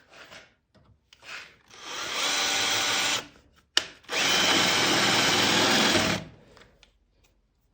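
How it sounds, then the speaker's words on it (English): Power drill drilling the heads off rivets on an SN95 Mustang during a camber/caster plate install, two loud sustained bursts of whining drill noise of about a second or two each, separated by a short pause, with quieter clicks before and after. "you have a rivet here and a rivet here that we're just going to go ahead and drill the heads off of"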